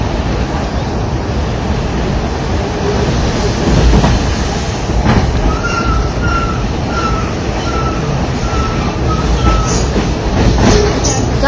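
A train rolls past at close range with a loud, continuous rumble of wheels on rails. Faint rhythmic clicks and a repeated high squeal ride over the steady roar.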